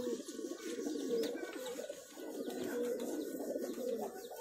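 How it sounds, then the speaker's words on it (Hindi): Punjabi Tara pigeons coo steadily close by, a continuous low, rolling throaty murmur with overlapping calls from several birds. "काली जबान के कबूतर है, पंजाबी तारा कबूतर है।"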